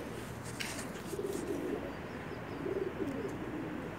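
A quail cross calls with soft repeated cooing phrases in a couple of short bursts, moderately close against a background hum.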